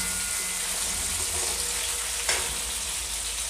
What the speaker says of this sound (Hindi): इसी तरह से हमें इनको फ्राई करना है।